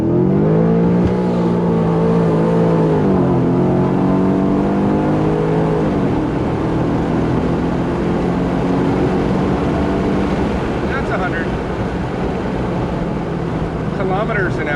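An Infiniti M56 fitted with PPE headers and exhaust accelerates hard, the loud engine note climbing through rising revs, dipping at a gear change, then climbing again into a sustained roar heard from inside the car.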